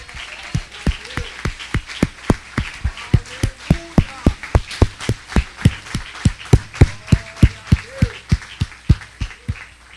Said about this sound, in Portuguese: e as palmas louvem a Deus